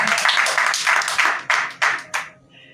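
A church congregation claps together during a sermon, with dense, loud clapping that thins into a few separate claps before fading out.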